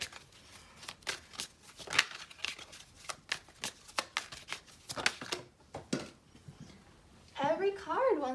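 Tarot cards are shuffled close by in a rapid run of crisp riffling slaps and flicks, then a voice begins speaking near the end.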